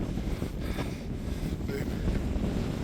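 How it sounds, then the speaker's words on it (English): Strong wind buffets a microphone on an exposed hilltop at Pendle Hill, a continuous low rumbling roar with gusty surges and no voices. "The wind is wild on this microphone"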